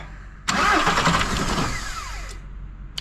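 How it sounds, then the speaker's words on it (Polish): A Seat car engine with starting problems cranks and catches for a couple of seconds, roaring unevenly before fading, with a sharp click at the end. "A on ma problemy z odpaleniem"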